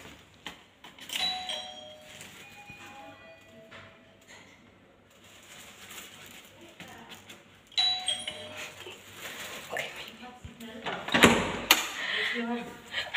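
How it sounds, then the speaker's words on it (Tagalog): A soft electronic doorbell chime rings in a quiet indoor space, followed by louder door and movement noises near the end. "Mag-doorbell tayo."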